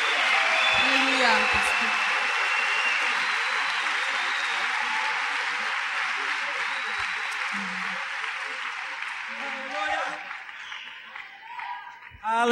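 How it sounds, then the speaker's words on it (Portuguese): Church congregation applauding during a sermon, a broad roar of clapping that starts loud and slowly fades over several seconds, with scattered voices and cheers mixed in before it trails off near the end. "Aplauda o Senhor."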